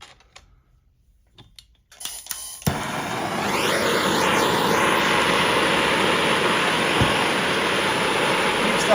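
A gas torch roars steadily as it heats a stainless steel tube for brazing with easy-flow flux, loud and continuous after a quiet start with a few faint clicks.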